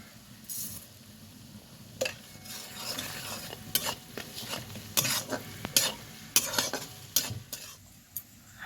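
Onions sizzle in a pan while a utensil stirs and scrapes, making irregular close metallic clinks and scuffs over a steady frying hiss, with no talking.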